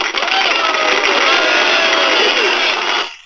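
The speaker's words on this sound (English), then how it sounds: "Let me hit the old applause here." Canned applause effect triggered during a live stream, a dense continuous wash of clapping and crowd noise at steady loud level for about three seconds before cutting off abruptly.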